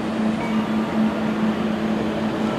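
Steady low rumble and hum of a train idling at the Třinec terminal station, a constant drone with a faint tonal whine running through the whole stretch.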